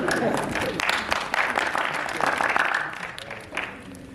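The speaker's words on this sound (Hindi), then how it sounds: "जो लोग ताली बजा रहे हैं" Audience clapping at a business motivation seminar in India, a dense patter of hands that swells and fades over a few seconds while a voice talks underneath.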